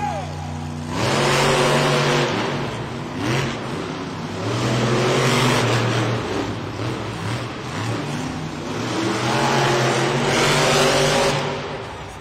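A Grave Digger Monster Jam truck revs its engine in an arena, loud roaring bursts that swell and fade in three waves, with an announcer talking over the noise.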